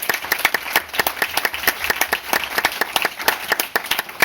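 Audience at a general assembly of a multiple sclerosis association claps in appreciation, a close, lively burst of individual hand claps over a continuous wash of applause.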